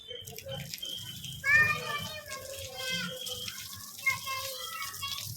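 Water gushes steadily from a hose pipe during household washing, with a woman's and children's voices talking over the running flow throughout.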